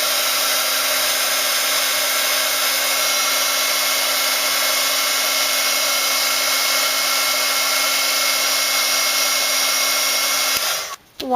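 A heat embossing tool blows hot air steadily over a handmade black and pink Christmas card, a loud continuous whirring hiss with a faint hum that runs unbroken for about eleven seconds, then cuts off abruptly near the end.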